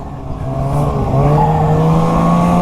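A snowmobile engine revs up hard and close as the sled is ridden, its pitch climbing steadily into a loud, sustained whine with no voices over it.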